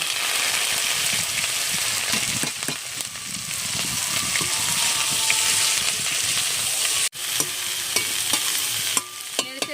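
Greens and potatoes hit hot oil seasoned with whole cumin and dried chilli, giving a steady close sizzle with scraping stirs. A sharp clatter near the end is followed by lighter crackling.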